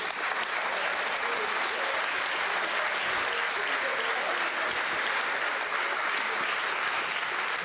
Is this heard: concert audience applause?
yes